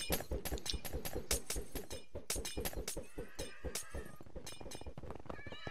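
Splash potions shattering like breaking glass in Minecraft, a rapid series of sharp, bright crashes and tinkles close by, overlapping one another throughout.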